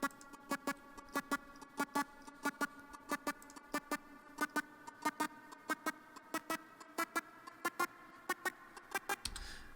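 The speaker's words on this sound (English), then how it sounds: "In the original song, there's this little duck riser," A duck riser patch from an old Jupiter synth in Analog Lab plays a run of short, quacky, bright synth blips in a quick, slightly irregular rhythm, about two dozen notes, clear and alone, ending in a low thump.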